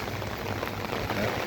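Rain falls in a village by the local pond, a brief, steady patter of drops on surfaces at moderate loudness.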